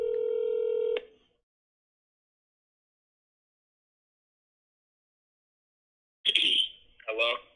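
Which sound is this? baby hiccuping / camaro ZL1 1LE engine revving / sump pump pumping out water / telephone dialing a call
telephone dialing a call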